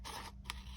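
Scissors trimming paper for a decorated journal page make a quick, close, quiet snip, followed by a short pause and one sharp cut.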